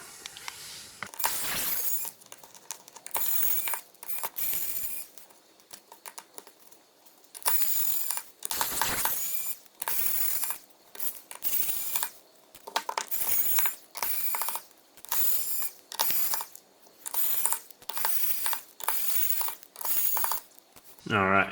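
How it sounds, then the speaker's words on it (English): A small screwdriver backing tiny screws out of a NUU N13 phone during a teardown, repeated close clicking and ratcheting bursts in short regular turns with brief pauses, no talk. "we got all these nice little screws in here, and we want to take those out"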